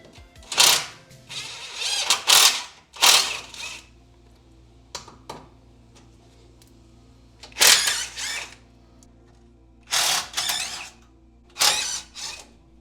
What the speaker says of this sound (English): These are 12mm bolts. I've already loosened them up, so we're going to go ahead and take those out.